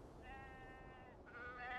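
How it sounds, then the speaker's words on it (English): A sheep bleats in the video game Beyond Two Souls, a wavering, nasal cry that runs for over a second, pauses briefly, then comes back, moderately loud over a dense low game ambience. "we just came here to look at the sheep"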